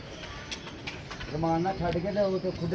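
A pigeon gives a low, rolling coo a couple of times against steady outdoor background noise, with a few faint clicks before it.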